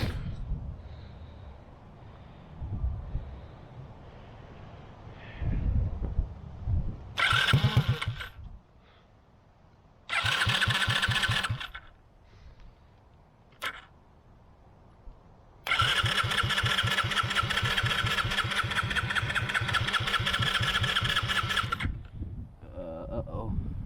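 A rebuilt 70cc Chinese quad engine fires in short bursts, then settles into a loud, steady, buzzy running note for several seconds before cutting out, with talk in the gaps.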